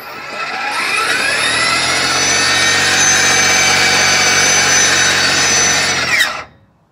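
An EGO SNT2400 56V two-stage electric snow blower runs in eco mode, giving a steady, loud whirring motor drone that climbs as it spins up, holds level for about six seconds, then cuts off abruptly.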